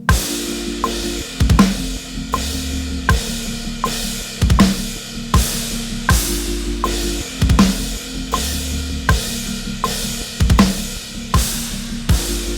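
Drum kit playing a steady beat with repeated quick two-note bass drum bursts, punchy low kicks under cymbals, loud and close.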